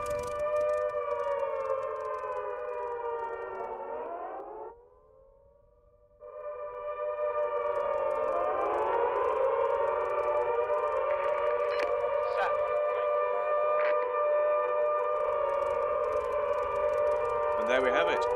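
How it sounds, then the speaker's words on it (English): A wailing WWII-style Chain Home air raid siren at an airfield in the DCS flight simulator, with layered rising and falling tones, cuts out briefly, then resumes and holds steady, with faint sounds underneath. "the air raid siren has gone off at the airfield"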